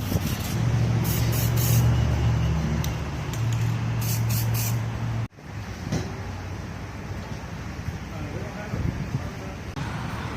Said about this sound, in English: clear that you spray a car with